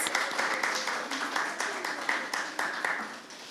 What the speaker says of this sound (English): Please clap for Delia